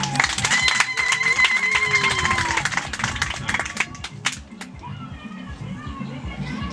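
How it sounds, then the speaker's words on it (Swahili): A crowd at a community foundation event claps for the second zone leader, with steady dense applause at first that thins out, while voices and children's chatter carry over it. "makofi kwa ajili yake"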